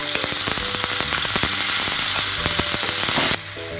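A loud, dense crackling sizzle of onion, garlic and ginger paste frying in hot oil, close up, with stirring and sputtering pops throughout.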